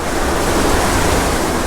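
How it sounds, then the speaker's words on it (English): Steady broadband rush of a flowing creek, close and fairly loud, a continuous wash of water with no breaks and no voices. "Here's the creek."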